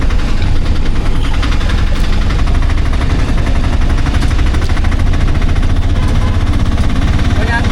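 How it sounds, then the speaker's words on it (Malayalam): A 2026 Ape Classic auto rickshaw engine running hard during gear shifts, a loud, continuous rattling drone with a fast knocking pulse, heard up close from inside the vehicle. "ഗിയർ ഷിഫ്റ്റിങ്ങിന് ചെറിയൊരു സൗണ്ട് ഉണ്ട്"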